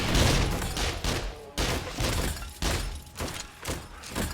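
Gunfire aimed at a rock in the zombie survival game 7 Days to Die: a run of loud, sharp shots in irregular bursts, each followed by a brief rumbling tail, with no talking.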